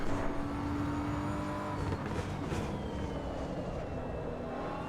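Race car tyres slide and scrub in the Assetto Corsa Evo racing game, a steady broadband roar of engine and tyre noise held at an even level for several seconds with no talk.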